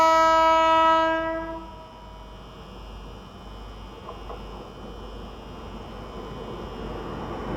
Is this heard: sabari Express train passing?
yes